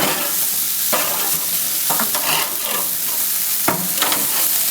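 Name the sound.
chicken wings being cooked and moved around in pan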